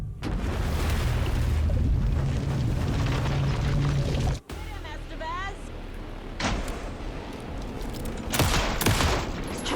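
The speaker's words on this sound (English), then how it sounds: "Anderson, pin him down with gunfire for me to get the light on him." Loud bursts of rapid gunfire and booming blasts in Alan Wake 2, dense at first, then sparser shots with a voice speaking between them.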